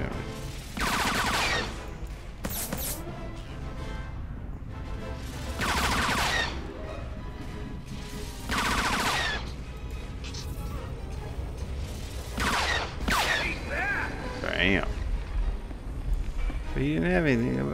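Bursts of blaster-style gunfire in the video game Star Wars: The Old Republic, loud volleys separated by quieter gaps, mixed with game effects and people talking throughout.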